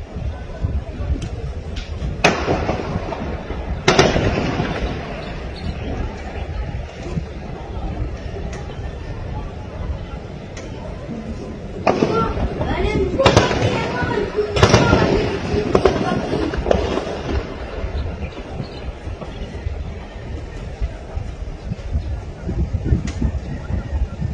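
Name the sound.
gunfire at a roundabout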